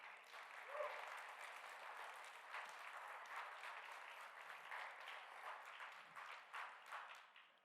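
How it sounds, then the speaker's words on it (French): Applause from an audience at a civic community recognition ceremony in Edmundston, dense clapping sustained for several seconds at moderate distance, fading slightly toward the end. "Je pense que là aussi, ça mérite une bonne main d'applaudissements."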